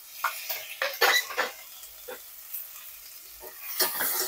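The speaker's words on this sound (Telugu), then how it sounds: "వీటి కూడా ఈ నెయ్యిలోనే నేను వేయించేస్తున్నా. టమాటో కూడా వేసేస్తున్నా." Tomato and other ingredients frying in ghee in a pan, with a background sizzle under sharp scrapes and clinks of a spoon stirring against the pan, loud bursts in irregular clusters.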